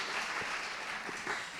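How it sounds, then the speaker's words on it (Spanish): An audience at a film festival master class applauds Rodrigo Prieto in a steady, even burst of clapping that fills the room, with no voices over it. "Un aplauso a Rodrigo, por favor."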